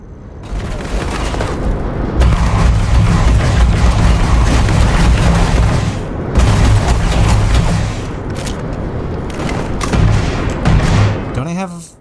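A heavy-kicking laser weapon fires in the space game Starfield: loud, dense bursts of blasts and booms roll on for several seconds at a time, with short gaps between volleys.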